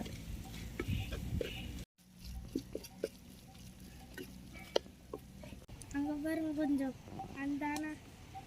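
Steady sizzling and scraping of masala spices sautéing in a pan for crab soup, with occasional stirring clinks and a voice speaking over the cooking near the end.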